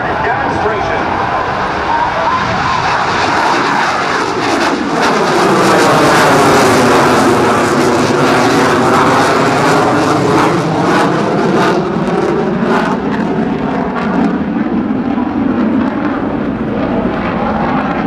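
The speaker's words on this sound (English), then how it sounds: "we present to you the 2008 NAS Oceana Airshow Canadian Forces CF-18 Hornet demonstration" A Canadian Forces CF-18 Hornet jet flies an airshow demonstration at NAS Oceana, its broad engine roar swelling and shifting in pitch as it passes, with an announcer talking over it throughout.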